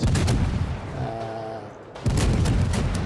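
Warship guns fire HE shells in the naval combat game World of Warships, heavy booming salvos rumbling loudly at the start and again near the end with a quieter lull between.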